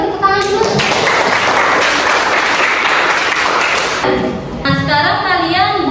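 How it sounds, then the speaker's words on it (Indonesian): Classroom audience clapping for a student in an Indonesian school lesson, a dense sustained burst of applause lasting several seconds before tapering off, with a voice and talk around it. "tepuk tangan dulu"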